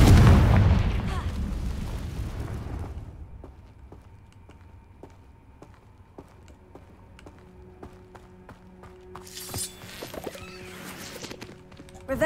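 Confringo fire-blast spell exploding during a Hogwarts Legacy battle: a loud, booming burst with a rumbling tail over the first few seconds, then fading into quiet background music.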